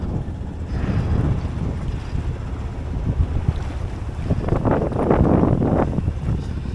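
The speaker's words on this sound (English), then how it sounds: "Engine's just ticking over to keep the tiller pilot going." Sailboat at sea with its engine ticking over, a low steady rumble mixed with wind buffeting the microphone and the wash of waves, fairly loud and without talk.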